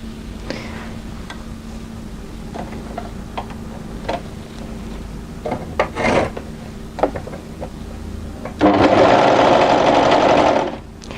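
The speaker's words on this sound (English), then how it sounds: "So we're going to start overlocking here, and in one continuous motion overlock all the way to the back of the garment." An overlocker sews a seam on a knit tee dress. Soft handling clicks and taps lead into a loud, steady two-second burst of rapid stitching near the end, with no voices.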